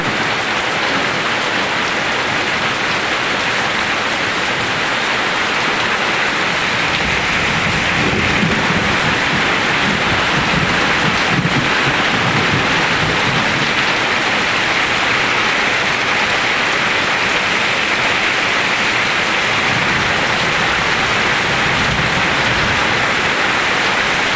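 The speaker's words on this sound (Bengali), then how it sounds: "কালবৈশাখী বৃষ্টি তাণ্ডব চলতেছে বাগলপুর, দেখতে পাচ্ছেন গাছপালা পায়ে উড়িয়ে ফেলতেছে।" A Kalbaishakhi thunderstorm in Bhagalpur brings heavy rain pouring in a dense, constant roar, loud and unbroken, with gusty wind and low rumbling beneath and no voices.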